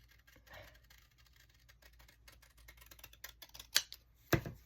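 Scissors snip through the bottom edge of a cabinet card, a few quiet close cuts building to two sharper clips near the end, with no talking.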